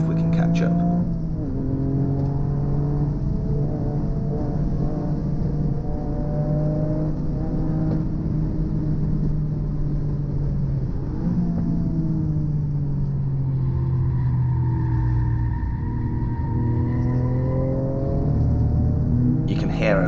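A four-wheel-drive Toyota GR Yaris on the Donington race track, its engine droning loud and steady from inside the car, pitch rising and falling with throttle, with a voice talking over it.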